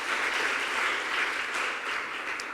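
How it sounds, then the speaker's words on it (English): Audience at a public speaking competition final applauding the national winner, a brief, steady stretch of dense clapping throughout the hall with no speech over it. "A big round of applause for our winner for 2023."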